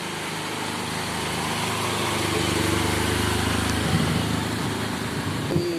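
An auto rickshaw engine hums steadily as it passes through heavy afternoon rain, its buzzing motor blended into a constant wash of rainfall, with a faint rise near the end.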